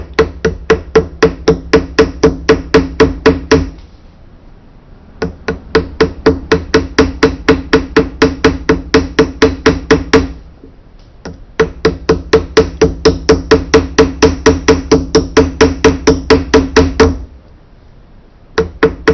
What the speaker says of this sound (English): now I'm going to hammer this with the cross peen